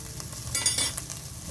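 Spices crackle and sizzle in hot oil for a North Karnataka bitter gourd stir-fry, with a short hissing fry and a few spatters popping close by, no voices.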